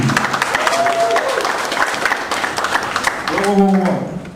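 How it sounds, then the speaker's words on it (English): An audience applauding, a burst of clapping with a few voices cheering and calling out over it. "let's give her a big round of applause for Amanda Brewington."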